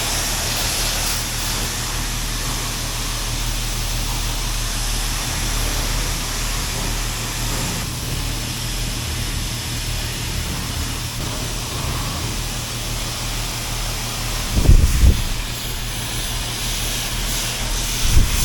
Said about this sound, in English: let's go ahead and go back to the high pressure rinse